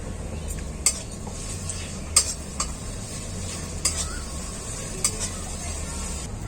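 Fried onions sizzle steadily in a pan as ginger-garlic paste goes in for a Bengali ghugni, with a few sharp spoon clinks against the pan cutting through the even hiss.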